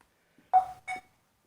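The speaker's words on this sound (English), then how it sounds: "Well, it beeped back again." A small device triggered remotely by Find My Device gives two short electronic beeps in quick succession, clear and close in an otherwise quiet room.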